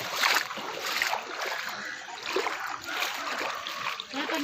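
Floodwater rushes and splashes along a residential street after heavy rain, a steady broad wash of moving water throughout with no break.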